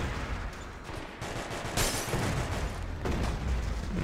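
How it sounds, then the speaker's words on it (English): Dense gunfire and explosions from the video game Max Payne 3 multiplayer sound as continuous rapid shots and booms, loud and unbroken for the whole stretch. "there's a lot of explosives going on over here"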